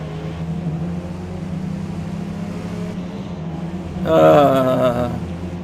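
A 4-cylinder car engine in Forza Motorsport drones steadily at mid pitch, then briefly rises in a louder rev near the end, heard alone without talk.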